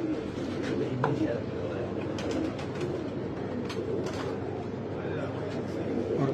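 High flyer pigeons coo close by in a low, steady warble, with people talking over them throughout.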